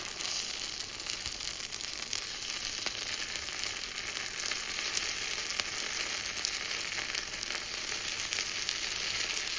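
Potato masala kuli paniyaram cooking in a paniyaram pan over a low flame, giving a soft, even, continuous sizzle that stays faint and steady.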